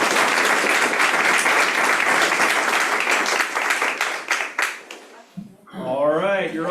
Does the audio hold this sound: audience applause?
yes